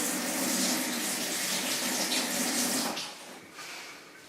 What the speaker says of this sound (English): And also wash the blade of the knife.